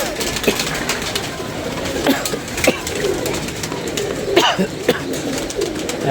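Pigeons kept by a rooftop pigeon fancier coo repeatedly nearby, soft throaty calls recurring every second or so over a background of ambient hum and light rustling.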